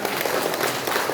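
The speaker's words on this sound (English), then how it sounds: "he deserves a round of applause" Audience clapping in a brief, dense burst of applause, even and moderately loud, with no voices standing out.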